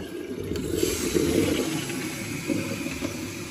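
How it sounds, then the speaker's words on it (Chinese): An old toilet with a weak, failing flush, set in cement on its base, is flushed: a steady rush of water runs throughout, fairly loud and close, with no talking. "现在冲一下水，看看它这个冲水效果不行了。"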